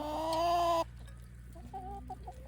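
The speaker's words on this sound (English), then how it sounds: "27 chooks in the caravan" Hens in a caravan coop holding 27 chickens make a loud, close drawn-out cluck, then several softer, shorter clucks follow over a low background hum.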